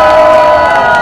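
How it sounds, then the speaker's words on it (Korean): A crowd at a Korean patriotic rally roars with sustained, loud cheering and shouting, a dense wall of voices filling the whole moment. "함성!"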